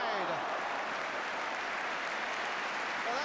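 Arsenal fans applaud at a football match against Bristol City, a steady, even wash of clapping from a large crowd heard at moderate distance.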